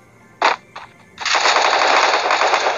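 Gunfire in the battle royale game Garena Free Fire: two short separate bursts, then a long, sustained, loud burst of rapid automatic fire.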